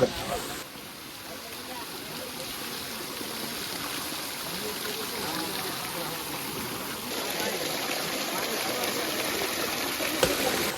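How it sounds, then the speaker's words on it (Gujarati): Rainwater in a mountain stream between hills flows in a steady, close rushing wash that holds constant throughout, with a voice speaking over it at times. "ઝરણું જોવા મળે છે ભાઈ ડુંગરાની વચ્ચે ભાઈ વરસાદનું પ્યોર પાણી"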